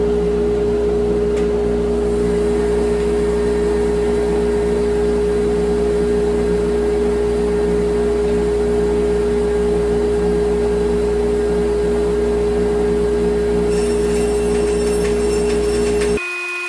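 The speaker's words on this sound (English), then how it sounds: "We turn on the dust collector and let's try it out." Workshop dust collector running with a steady, loud motor hum and whir that holds constant throughout before cutting off at the end.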